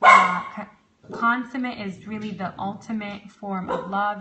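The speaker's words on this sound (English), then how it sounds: "Apologies for my dog. She's barking spree today" A dog barks intermittently in the background of a home recording while someone talks continuously over it, the short yips and barks partly masked by her voice.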